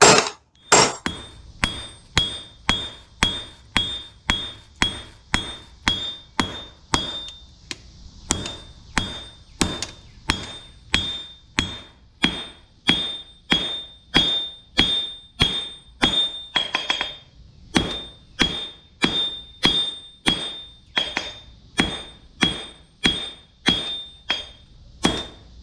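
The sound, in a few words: hammer forging Viking bearded axe on anvil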